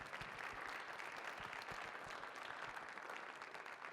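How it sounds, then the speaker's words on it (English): Faint, steady applause from a leadership summit audience honoring a speaker, continuous dense clapping heard from a distance for several seconds. "let's give Cole one more round of applause"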